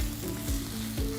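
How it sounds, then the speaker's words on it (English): Vegetarian fried rice frying in a pan with flaxseed oil, giving a loud, close, continuous sizzle with faint stirring scrapes and no talking. "start frying that up. Get it nice and crispy."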